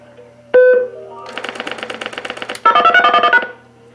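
A single beep from a pulse-dial to DTMF converter, then a fast, even burst of rapid clicking pulses from very rapid rotary telephone dialing at 50 milliseconds, ending in a buzzing stretch of rapid ticks.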